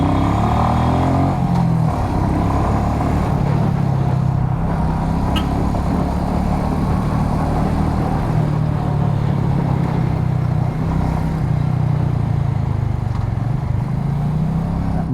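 Constant engine drone and wind rush of a Royal Enfield Meteor 350 motorcycle on the move, steady and close, with no talking.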